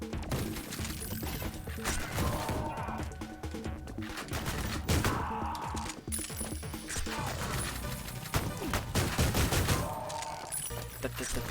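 Gunfire from the video game Ion Fury, including a pump-action shotgun, lands as repeated sharp blasts with metallic mechanism clatter, spaced a few seconds apart over busy game noise and music.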